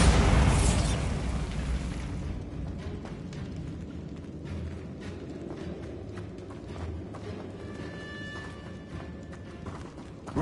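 Blasting spell fired in a Harry Potter video game, a loud burst at the start followed by a rumbling boom that decays into scattered crackles and pops over a steady background.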